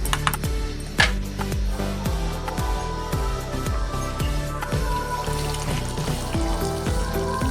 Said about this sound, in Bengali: এবার এটার মধ্যে জল দিয়ে দেব সামান্য পরিমাণে